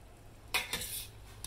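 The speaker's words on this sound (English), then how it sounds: "I'm going to go ahead and put our pasta in there" Dry pasta for chili mac tips into a pot of liquid with a couple of short rattling, splashing bursts over a quiet kitchen background, no talking.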